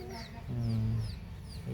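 Native Bangladeshi village chickens cluck and chirp nearby while a voice talks over them.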